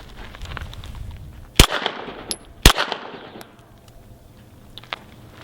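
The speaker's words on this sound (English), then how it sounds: "So you'll fire once, realign, fire again" A handgun fires twice at a target during a defensive shooting drill, two sharp loud cracks about a second apart with a short echo, over faint outdoor background noise.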